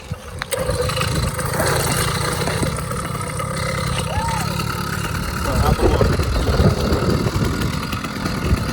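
An 80cc motorized bicycle engine runs nearby in a parking lot with a rough, buzzing drone whose loudness rises and falls with the throttle, and people talk over it.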